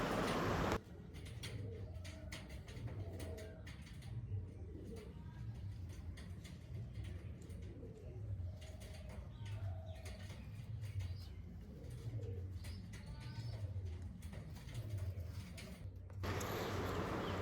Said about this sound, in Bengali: খুব ভালো কোয়ালিটির পায়রা যেগুলো দেখাচ্ছি